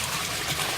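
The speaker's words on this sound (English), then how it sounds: "So the rain's coming down and it's being collected on the roof and coming down these" Rainwater runs off a roof and pours into an underground cistern beneath a bedroom on an off-grid homestead, making a steady, close trickling splash with no talk.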